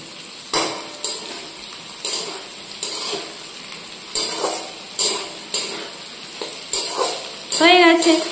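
Food sizzles in a pan on the stove while a spatula scrapes and stirs it in regular strokes about once a second, each stroke a close metallic clatter over the continuous frying hiss.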